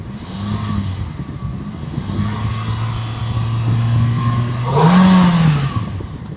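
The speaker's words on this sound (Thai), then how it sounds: "มาฟังเสียงเครื่องยนต์สักเล็กน้อยนะครับผม" A used Toyota Yaris engine idles with a low, steady hum, then revs up briefly and settles back down.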